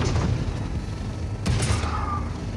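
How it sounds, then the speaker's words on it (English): Explosions and heavy booms from tank battles in World of Tanks during an April Fools wrecking ball event, a dense rumbling barrage with a sharp blast midway, loud and continuous. "there's a lot of explosions"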